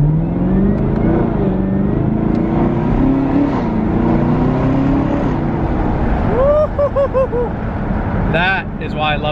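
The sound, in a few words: 2018 Camaro ZL1 engine revving on downshifts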